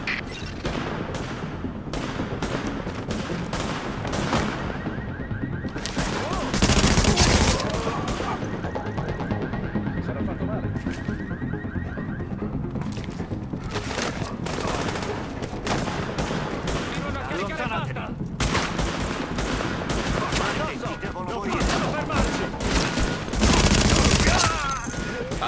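Bursts of gunfire and automatic weapon fire in Tom Clancy's The Division, an Italian-language shooter game, with sharp repeated shots, louder explosive blasts around the midpoint and end, and clicking mechanisms between volleys.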